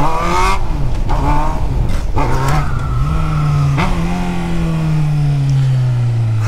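A motorcycle engine revs hard in a street setting, a loud close roar with rising and falling pitch across several throttle blips before settling into a long steady high rev that slowly eases down; no talking.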